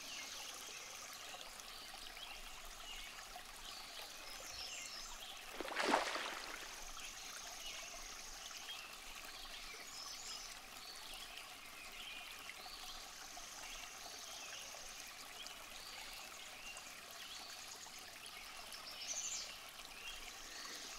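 A stream trickles through a ravine, a faint, steady flowing murmur with a brief louder splash early on and distant bird calls.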